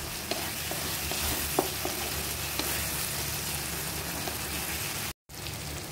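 Onions for egg curry sizzle and fry in a pan, a steady close crackle with a few brief clicks from stirring and a short break near the end, with no talk.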